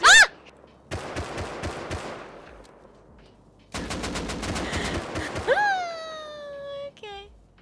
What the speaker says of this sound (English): Shoot! Shoot! Shoot! Shoot! Shoot! Shoot! Shoot!